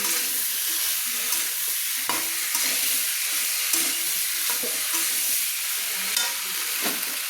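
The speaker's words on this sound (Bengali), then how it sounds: "মশলার সঙ্গে আমি মিষ্টি কুমড়োটা কষিয়ে নিচ্ছি" Pumpkin sizzles and is stirred with spices in a pan over a medium flame, a steady frying hiss with intermittent scraping stirs throughout, close and fairly loud, with no talking.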